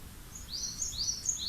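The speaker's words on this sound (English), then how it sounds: "I hear these birds in relationship," Several small forest birds sing in quick high chirping phrases, overlapping and fairly faint against quiet outdoor background.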